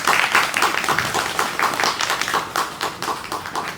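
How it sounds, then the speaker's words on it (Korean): An audience at a talk concert on forty years of the K League applauds, dense rhythmic clapping from many hands that holds steady and fairly loud throughout, with no voices over it. "다시 한번 박수 부탁드리겠습니다."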